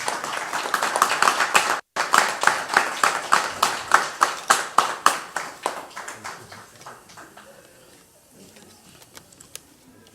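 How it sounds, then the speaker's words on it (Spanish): A small audience at a musical instrument performers' graduation ceremony claps in a steady burst that gradually fades out over several seconds. "Un aplauso."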